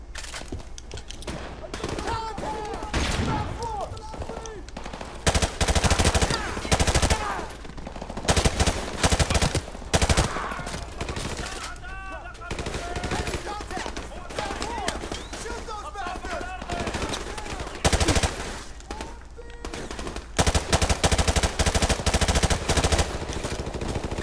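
Rapid bursts of gunfire from Modern Warfare Remastered, on the Charlie Don't Surf level, crack repeatedly in dense volleys across the whole stretch, mixed with game effects and a voice talking.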